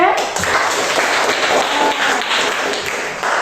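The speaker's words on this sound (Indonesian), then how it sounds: "Tepuk tangan untuk kelompok C." Classroom applause for a student group after their presentation in a teacher-training lesson, a fairly loud dense patter of many hands clapping at once, sustained evenly, with some voices mixed in.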